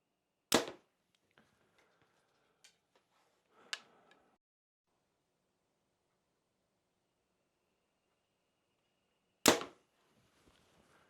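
Three sharp snaps of a Mathews Lift X compound bow being shot, each a loud crisp crack followed by faint rattling, with quiet gaps between.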